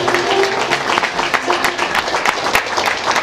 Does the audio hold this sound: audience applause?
yes